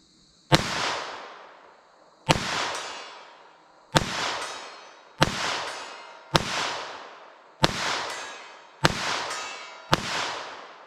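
Eight sharp, loud gunshots from a Taurus TX22 .22 LR pistol fired with Winchester ammunition at an outdoor range, spaced evenly about 1.5 seconds apart, each crack followed by a fading echo, with no talking.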